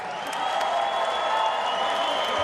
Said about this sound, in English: please have a round of applause for these 2 fighters